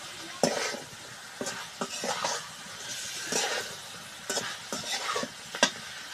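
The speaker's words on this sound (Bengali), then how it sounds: "এখন এই ভাজে রাখা মাছগুলো দিয়ে একটু কষাই নিই।" Snakehead fish pieces sizzle and are stirred in spiced masala in a pan, with repeated scraping spatula strokes over a soft, steady frying hiss, close and fairly quiet.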